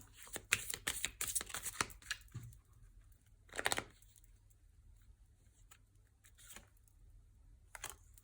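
Oracle cards are shuffled and one is drawn from the deck, giving a quick burst of close riffling and papery flicks at the start. Later come softer rustles and a few brief card snaps, with no talking.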